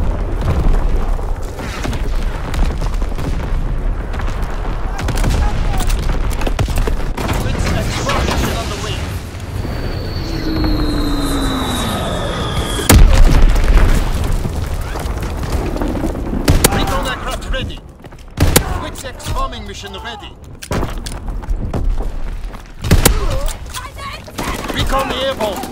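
Artillery battery strikes in the Call of Duty WWII video game boom as heavy, broad explosions amid constant battlefield noise, with a radio-style voice talking over it and a falling whistle midway.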